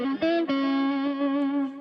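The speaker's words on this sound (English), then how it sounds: "I really love the BB preamp pedal, which is just a crunchy sound I'm playing now" An electric guitar runs through a BB preamp pedal set for crunchy distortion. A sustained note rings out with rich harmonics after two quick attacks at the start, then fades gradually, heard alone.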